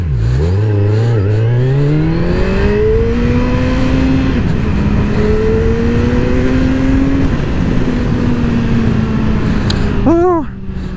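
A Kawasaki Z1000R motorcycle engine revs loudly and climbs through gears, its pitch rising and falling as it accelerates, constant and close, with a brief voice near the end.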